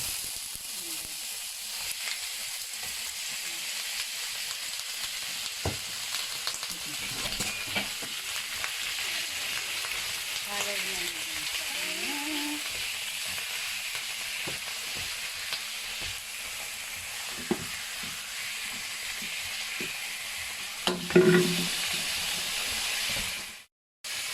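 Chicken pieces fry for Filipino-style chicken adobo in a hot pan, making a loud, steady sizzle and hiss throughout, with occasional scrapes, until it cuts off abruptly at the end.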